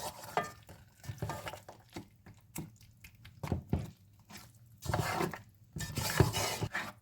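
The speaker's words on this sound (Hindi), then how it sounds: "अब हम इसमें बिरयानी मसाला शामिल करेंगे। अब हम इसे अच्छे से भून लेंगे।" Mutton korma biryani base cooking in a pot as biryani masala is stirred and fried in, with repeated close scraping and clinking of a spoon against the metal pot and soft sizzling between strokes, no voices.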